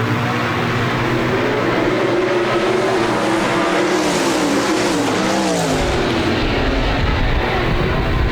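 360 sprint cars racing at Park Jefferson Speedway, a loud, continuous engine roar with shifting pitch as the pack slides through a turn, sustained throughout with no speech.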